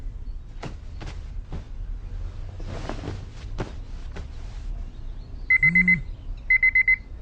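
A phone alarm beeps in two quick rapid bursts near the end, after soft knocks and rustling in a quiet room.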